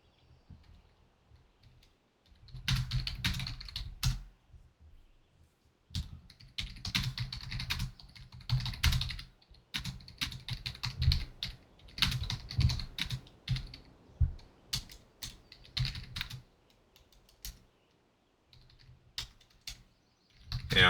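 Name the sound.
typing on a computer keyboard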